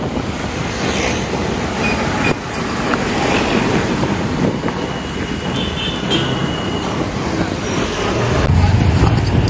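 Highway traffic rolls past in Vasai Virar, among them large dumper trucks, as a dense, constant roar heard from a moving vehicle that swells slightly toward the end.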